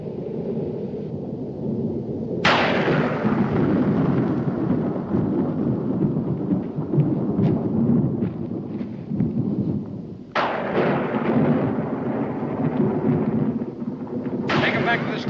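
Thunder from an approaching storm in a 1969 Western drama: three sharp cracks, each followed by a long, loud rolling rumble.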